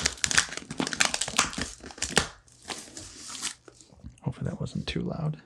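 Plastic and cardboard packaging of a Dark Crystal Deet figure being cut open and unwrapped, with close, loud, irregular crinkling, crushing and tearing that comes in busy bursts and briefly quiets in the middle.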